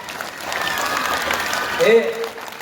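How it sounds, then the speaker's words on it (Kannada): Audience clapping at a humorous spiritual discourse during a Holi full-moon gathering, a steady, moderately loud patter of hands that swells briefly near the end, with a speaker's voice faintly mixed in. "ನಿಮಗೆ ಕೇಳಾಕತ್ತಿದ್ದ ನಾವು ಜೋರು ಚಪ್ಪಾಳೆ ಹೊಡ್ರಿ ಕೈ ಮೇಲೆ"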